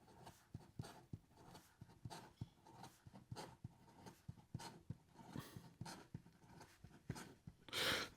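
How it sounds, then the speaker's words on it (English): A fountain pen with an ebonite feed and a wet, tuned nib writes quickly on paper, giving a steady run of short, close scratchy strokes in a quick rhythm, with a louder burst of paper noise near the end. "And then in regard to some fast writing,"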